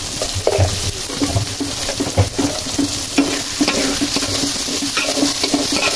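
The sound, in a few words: whole cumin seeds added to frying beef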